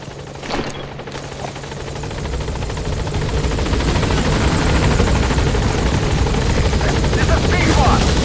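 A helicopter in Metal Gear Solid V: The Phantom Pain arrives at a landing zone, its loud rotor thrum building steadily and growing louder toward the end after a brief sharp sound near the start.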